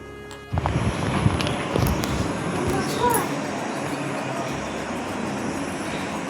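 Steady, loud rumble and rattle of a moving passenger train, heard from inside a fairly empty carriage, with a continuous roar throughout.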